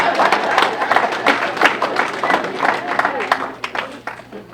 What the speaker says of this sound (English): Y'all can clap. It's okay.